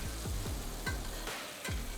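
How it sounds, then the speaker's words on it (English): Garlic butter sizzles loudly around frying burbot fillets in a pan, with quick repeated spooning strokes splashing through the steady fry, no voices. "You're basically spooning garlic butter over the fillets here"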